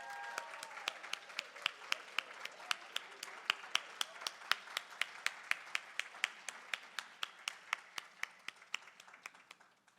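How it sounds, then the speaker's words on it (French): At a women's business gala, the audience applauds Violaine Gabriel with steady, evenly paced rhythmic claps that are crisp and distinct, keeping a regular beat for about ten seconds before tapering slightly. "On l'applaudit."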